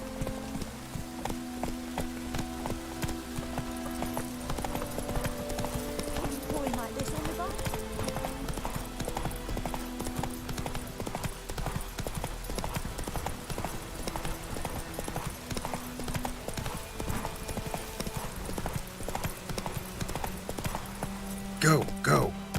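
Roach, Geralt's horse in The Witcher 3, gallops with steady rapid hoofbeats under a busy game soundtrack and ambience, with voices talking over it throughout.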